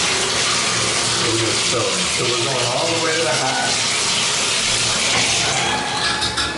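A shower runs into a clean bathtub with strong water pressure, pouring in a steady, solid stream. The loud, even hiss of water continues throughout while a person talks over it.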